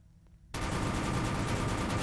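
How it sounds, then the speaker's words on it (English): A machine gun in Garry's Mod Prop Hunt opens up abruptly after a quiet moment and keeps firing in a dense, loud, continuous stream to the end. "I think it's just a machine gun."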